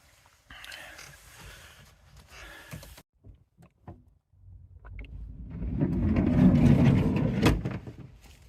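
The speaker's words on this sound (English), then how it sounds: "there was a car reversing up and it's just driven off" Outside a parked van at night, a car engine rumbles as it reverses up, then grows louder and drives off, with faint mechanical knocks and rustles earlier and the engine fading at the end.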